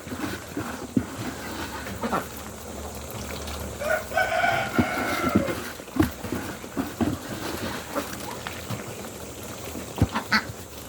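Muscovy ducks feeding on a mix of palay and crushed rice, with busy pecking and clicking bursts and occasional soft duck and fowl calls close by, mixed with brief rustling through the whole stretch.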